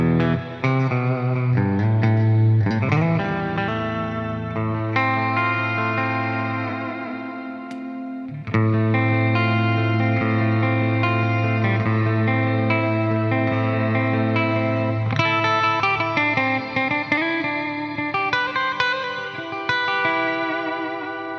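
Kramer Nightswan electric guitar with reverb added, loud sustained distorted chords and melodic lines ringing into a lingering echoing tail, with a brief break midway.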